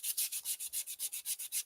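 Hand wet sanding of a car body panel with 400 grit sandpaper gives a soft, hissy rubbing in a steady back-and-forth rhythm of about eight strokes a second, quiet and close with no voices.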